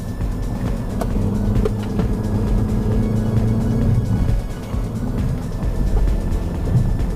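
A MINI Cooper S with a 2-liter turbocharged four-cylinder hums steadily from inside the cabin while driving through corners, with a smooth engine drone and road noise, and no talk.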